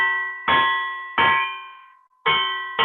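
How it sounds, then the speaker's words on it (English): Cha-cha bell in a Latin jazz setting, struck four times in an uneven pattern, each bright metallic clang ringing with clear overtones and decaying, loud and close, with no talk. "I'm gonna start 2-3 on the cha-cha bell."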